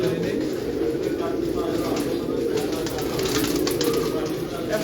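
Colored pigeons in a loft coo in low, soft, continuous murmurs, a steady cooing bed with a voice talking over it.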